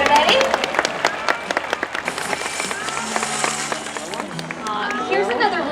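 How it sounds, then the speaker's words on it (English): Crowd applause at a dolphin show with Orchid and Shuka, a dense wash of clapping under a presenter's amplified voice throughout, with cheering rising toward the end. "Let's give them a good round of applause, everybody."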